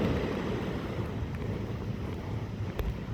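Sea waves and wind on a free public beach at Barangay Baybay in Malinao, Albay, Bicol: a steady, full rush of surf with gusty wind buffeting the microphone throughout, no voices.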